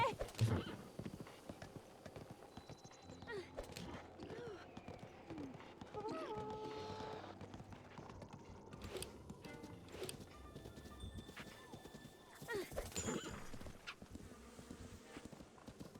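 Horse hooves clip-clopping at a fast pace in a survival video game, rhythmic and fairly faint, with occasional whinnies, game music tones and a voice talking intermittently over it.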